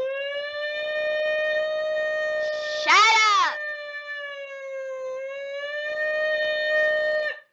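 A voice wails in a high, rising and falling siren imitation, held steadily with a brief warbling burst in the middle, close and loud.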